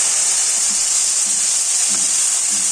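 Whole spices, including nigella seeds, dried red chillies and bay leaves, fry in hot oil with a loud, constant, close hiss and sizzle.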